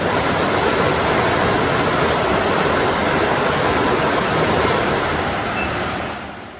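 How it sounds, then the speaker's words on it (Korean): Gwanheung Falls, a waterfall in a rocky gorge, pours in a loud, steady broadband rush that fills the whole stretch before fading slightly at the end. "열두 개의 폭포 중에 개인적으로 가장 멋진 폭포는 관흥폭포였는데요."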